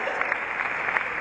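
A short burst of dense, steady clapping from a youth convention audience, fairly close and even in loudness.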